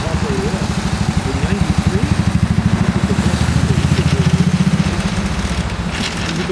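A 1924 Rudge four-speed motorcycle engine running at a steady, loud idle with an even rapid thumping pulse, close by, outdoors at the Cannonball Motorcycle run.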